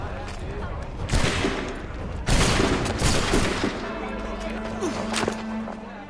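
A burst of musket fire from a volley in an Assassin's Creed 3 cutscene, with loud cracks near 1.2 and 2.3 seconds over dramatic music and a low droning score.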